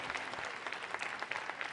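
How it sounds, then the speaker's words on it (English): Dense, continuous clapping from a school audience honoring Sparks High School, a steady wash of many hands applauding together with no voices standing out. "Let's give them another big round of applause."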